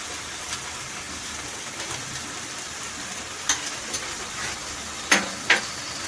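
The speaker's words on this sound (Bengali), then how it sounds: "এরপরে আমি দিচ্ছি পোস্ত বাটা" About two spoonfuls of ground poppy seed paste go into a pan for an aamish sukto, giving a soft, steady sizzle broken by a few sharp clinks and scrapes of a spoon near the end.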